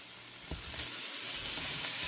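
Butter goes into an already hot pan, a soft hiss that swells into a steady, fairly loud sizzle after a short tap as it drops in.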